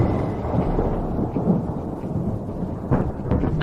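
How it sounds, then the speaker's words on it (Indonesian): Thunder rumbles low and heavy over steady rain, with a few sharper cracks standing out near the middle and end against the continuous wash of falling water. "Akan turun hujan."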